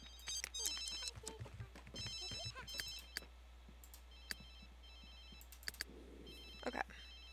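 A phone rings inside a household in The Sims 3, repeated short electronic trilling bursts at moderate volume, recurring in clusters alongside soft clicks and faint household sounds.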